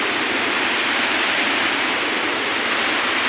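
A waterfall pours over rocks in a constant dense roar, loud and unbroken throughout with no voices.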